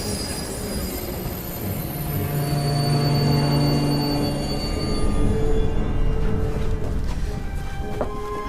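A train runs along rails with a steady rumble and drawn-out wheel squeal that swell toward the middle and then ease off, loud and close, with no talking.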